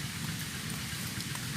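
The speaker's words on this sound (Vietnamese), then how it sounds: "mưa" Steady rain falls outdoors during an outing, a dense, even hiss of drops on surfaces that stays constant and fairly close, with no voices.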